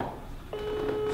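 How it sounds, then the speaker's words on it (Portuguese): A phone call rings out after a few seconds of room noise: a steady electronic ringback tone starts midway and holds at a constant pitch through the rest of the short clip. "vamos ligar pra ele aqui. Chamou? Chamando."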